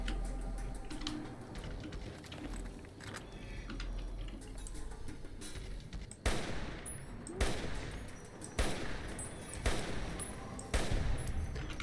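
Missile launcher fire against Deathclaws in the video game Fallout New Vegas, several loud booming blasts in the second half after a stretch of softer ticking game noise, with no talk.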